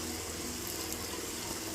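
Water pours in a steady gushing stream into a cooking pot in a home kitchen while a potato dish is prepared, constant and close with no talking.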